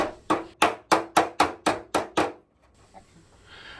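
A hammer taps out a dent in a car body panel from the inside: eight sharp, evenly spaced metallic knocks close by, followed by quiet with a faint extra tap.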